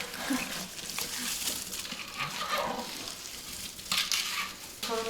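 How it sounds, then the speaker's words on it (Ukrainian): Whole plums being stirred with a utensil for marinating, a steady scraping, tumbling churn with light clatter at moderate loudness, a few sharper knocks near the end. "І це все потрібно добре перемішати"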